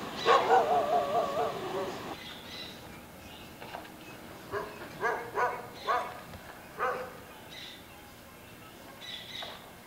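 A dog on a rooftop across from a church in Guadalajara gives a burst of rapid barks, then several more spaced yips and barks, moderately distant over faint street ambience.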